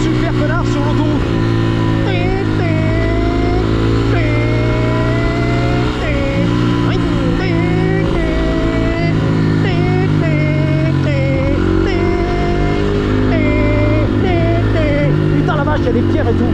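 A school bus engine drones loudly and continuously while driving on a highway in a video game, its pitch shifting up and down as it drives, with a person talking over it.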